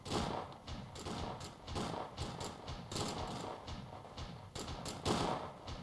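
Musket gunfire in Tropico 5 crackles as a dense, continuous volley of overlapping thuds and pops at moderate distance, with no pauses across several seconds.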